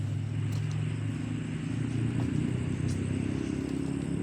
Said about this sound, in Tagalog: Yan, may mga motor na.